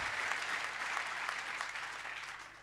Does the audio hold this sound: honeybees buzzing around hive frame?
no